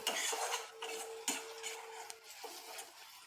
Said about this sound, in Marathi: आलं लसणाची पेस्ट आपण अगदी थोडंसं आलं घेतलेलं आहे आणि लसूण थोडा जास्त घेतलेला आहे तर आता छान परतून घेऊ